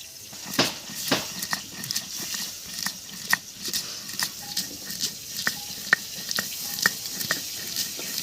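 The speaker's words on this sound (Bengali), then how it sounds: "মাছ ভাজা হয়ে গেছে, এখন আমি তেলের মধ্যে দিয়ে দিচ্ছি কালো জিরে ফোড়ন" Chela fish fry in hot oil in a village kitchen, giving a soft sizzle with sharp spitting pops and crackles scattered unevenly throughout, close up and without talk.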